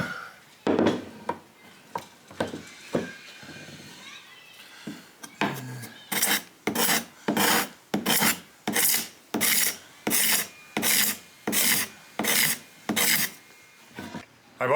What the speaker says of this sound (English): it's a card scraper sharpener. So it's got a rough edge, it's got a fine edge, and it's got a steel for rolling the burr.